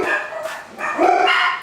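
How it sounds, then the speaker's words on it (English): Dogs bark excitedly near a backyard smoker where pork butt is cooking, a quick run of overlapping yaps and yips lasting about a second and a half, fairly close and loud, with no talking. "Dogs are losing their minds, so let me go deal with that."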